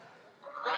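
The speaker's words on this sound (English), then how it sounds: "I'm trying to stay away from those stupid geese." Geese honking on a small farm, a rising chorus of nasal calls that grows louder toward the end, with muddy rainy-day farmyard ambience.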